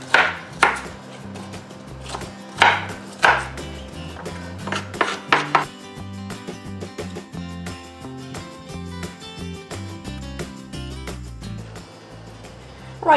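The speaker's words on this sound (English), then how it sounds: "run my knife through it 3/4 of the way through to the back end of the onion" A knife chops through an onion on a cutting board in several sharp, close knocks spaced through the first half, then the sound settles into quieter kitchen background.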